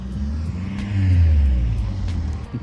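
A car revs and accelerates in a parking lot, its low engine rumble swelling louder midway and then easing back, steady and close with no talk.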